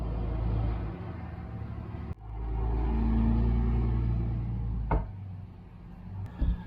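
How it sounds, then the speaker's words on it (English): Loud diesel truck rumbling past on a Texas street, a heavy low drone that swells and holds for several seconds, broken by a couple of sharp clicks near the camera. "There's diesel trucks driving around. I mean, that thing was loud."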